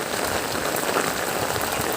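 Typhoon rain in the Visayas, a strong continuous hiss of heavy drops beating on surfaces, loud and even throughout the short stretch with no speech.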